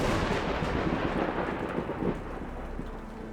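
A sharp thunder crack opens into a heavy, rumbling roll with a rain-like hiss, loud at first and slowly fading over a few seconds.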